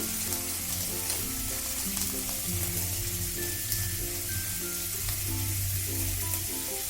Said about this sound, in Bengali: তেলটা গরম হয়ে গেছে এবারে এতে আমি চিংড়ি মাছগুলো দিয়ে ভেজে নেব